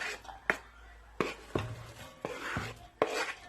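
A knife chops onions and garlic on a cutting board for a lamb shank recipe, five or six sharp, separate knocks at an uneven pace, close and fairly quiet.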